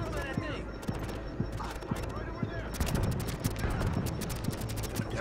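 Shotgun blasts in The Division during a firefight in the Lincoln Tunnel, several sharp booming shots at irregular intervals over a steady background of gunfire and game noise, with someone talking excitedly over it.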